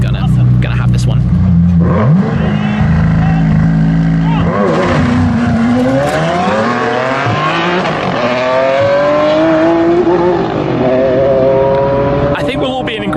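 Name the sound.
McLaren Senna and Ferrari Enzo hypercars accelerating in drag race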